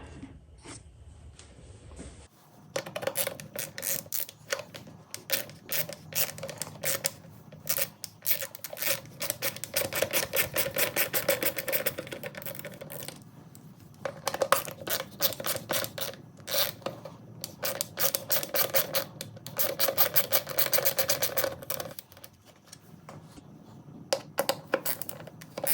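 Three T25 bolts coming out of a cover on a BMW S1000RR: a long run of close, quick metallic clicks and ratcheting taps, in bursts with short pauses, fairly quiet overall.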